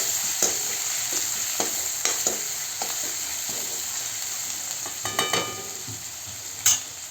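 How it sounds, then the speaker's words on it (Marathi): Asafoetida, garlic and green chilli paste frying in hot oil, with a steady close sizzle broken by intermittent scrapes and clinks of a spoon stirring in the pan. "त्याला थोडं तेलात परतून घेऊया"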